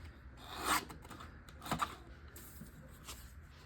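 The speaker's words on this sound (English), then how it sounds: "So I'm gonna trim just a little bit off the side." Paper photos being trimmed for a school-themed scrapbook layout, a few soft rasping cuts and rubs close by in a quiet room, with two stronger strokes separated by pauses.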